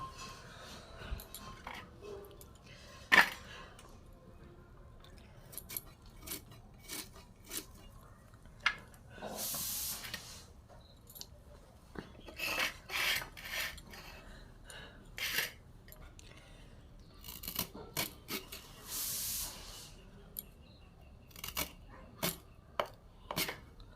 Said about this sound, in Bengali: এইভাবে আমি থোড়গুলো কেটে নেব।